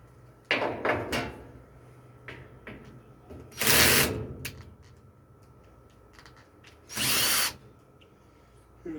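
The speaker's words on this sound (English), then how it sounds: "Got too much power on my drill maybe." A power drill drives a screw into wood on a doghouse restoration, with several short bursts followed by two longer, loud whirring runs separated by quiet pauses and small handling clicks.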